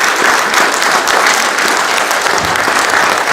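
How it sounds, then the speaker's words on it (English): A crowd at a gaming expo talk in Blackpool gives a full, loud round of applause, a thick, continuous patter of many hands that stays steady throughout with no talking over it. "So, for now, give Roland a round of applause."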